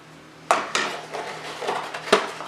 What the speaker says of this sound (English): So, start by mixing some dry ingredients.